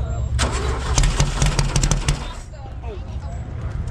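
An engine being cranked and caught with a rapid, rough chugging that settles into a lower running rumble, heard close with people talking over it.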